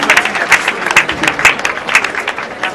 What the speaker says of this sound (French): Est-ce que nous pouvons applaudir très fort pour ce mot de la famille?